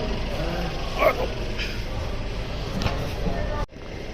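A 4x4 tractor engine runs steadily with a constant low rumble close by, its sound cutting off sharply near the end.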